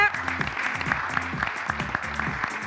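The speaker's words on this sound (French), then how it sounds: "On les applaudit s'il vous plaît." An audience applauds semi-final contestants at a competition, steady clapping running under a loud rhythmic music track with a pulsing beat throughout.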